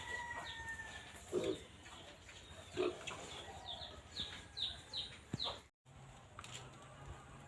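Pigs on a small farm in Assam, kept as a group of about six or seven, grunt in short, quiet bursts, while chickens cluck nearby in the faint background.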